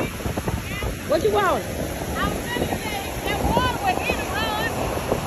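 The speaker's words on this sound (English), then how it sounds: "look at them waves" Ocean waves at Jacksonville beach wash in as a steady broadband roar under wind buffeting the microphone, with people talking close by throughout and a brief call of a bird or voice overhead.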